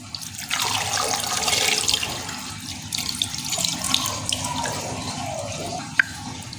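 Water runs steadily from a tap, splashing into a pot holding chicken for sajji and filling it over several seconds, with a few drips near the end.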